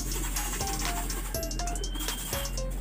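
Racing pigeons at a loft coo softly and repeatedly in low, throaty calls over steady background noise, with a few sharp chirps mixed in and no talk.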